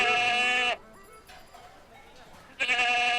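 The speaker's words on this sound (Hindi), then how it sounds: "किसकी बकरी? किसकी बकरी?" A goat bleats loudly in two long, wavering calls, one at the start and one at the end, with quieter voices talking in the gap between them.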